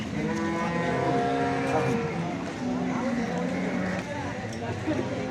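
Holstein Friesian cows offered for sale low and moo repeatedly at close range, the sustained calls overlapping beneath continuous talking.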